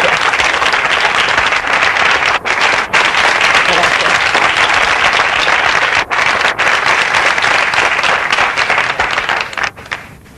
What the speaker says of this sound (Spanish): Esto es un aplauso.